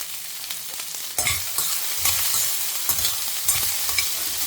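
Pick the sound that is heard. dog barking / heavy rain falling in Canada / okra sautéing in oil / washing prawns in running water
okra sautéing in oil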